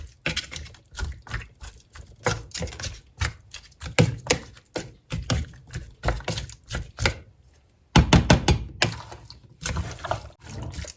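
Lemongrass being chopped into chunks on a board for a northern Thai chicken dish, a quick series of sharp knife strikes in irregular bursts with a brief pause, fairly close and clear.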